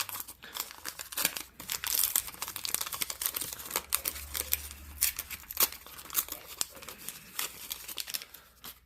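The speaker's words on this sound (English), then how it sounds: "Let's see what we got in this Donruss pack." A 1988 Donruss baseball card pack wrapper is torn open and crinkled, giving close, irregular crackling and ripping bursts over about nine seconds with no voices.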